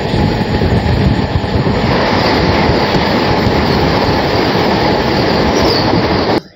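A diesel DEMU local train runs at speed between Tiruchirappalli and Madurai, giving a loud, steady roar of engine and rolling wheels with continuous rattling clatter that stops abruptly at the end.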